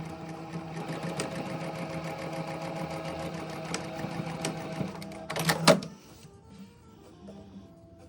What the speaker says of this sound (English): I'm going to sew the shoulder seams together.